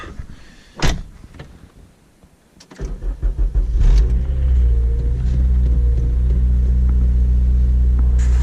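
A Honda Civic Si that is running poorly cranks over after a couple of sharp clicks, catches, and settles into a steady, rumbling idle that stays loud and close.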